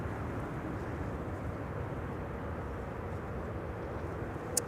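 A passenger airplane on arrival from Warsaw at Amsterdam Schiphol, runway 06, gives a moderate, steady jet rumble that stays level throughout, with a brief click near the end.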